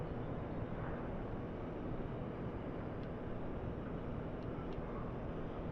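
A private helicopter in Microsoft Flight Simulator 2020 drones as a steady engine roar around Bendigo Airport, Victoria, Australia, holding even and fairly loud throughout with no talk.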